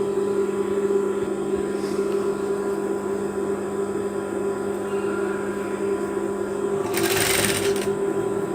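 A sewing machine stitching a tank top, a steady close mechanical hum and rapid needle chatter running throughout, with a brief louder rustle near the end.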